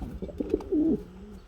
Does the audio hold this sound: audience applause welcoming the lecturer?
no